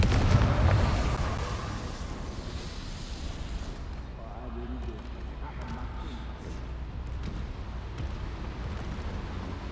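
A Confringo blasting spell going off in the game Hogwarts Legacy, a heavy explosion that bursts loud at the start and then trails into a long, rumbling decay.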